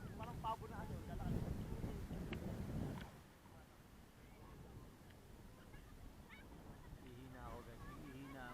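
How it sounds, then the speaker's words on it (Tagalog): Strong wind buffets the microphone on a beach, a loud rough rumble for about three seconds that then eases into a lighter rushing, with a person talking through the quieter part. "Lakas ang hangin."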